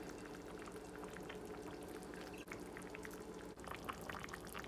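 A pot of Korean pork bone soup, gamjatang with bean sprouts, bubbles steadily just off the fire, a soft continuous gurgle of popping bubbles heard up close and alone.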